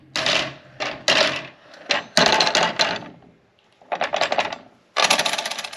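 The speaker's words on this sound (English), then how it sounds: "So something I noticed here was the blade guard is real rattly." Loose blade guard rattling on a DeWALT FLEXVOLT 60V cordless 12-inch sliding miter saw: bursts of sharp, loud, near metallic clatter come in uneven groups, with short gaps between them.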